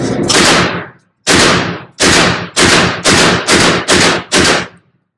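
Beretta 1301 Tactical semi-automatic shotgun fired seven times: one loud blast, a pause, then six rapid shots in quick succession, each sharp report decaying briefly, with no talking.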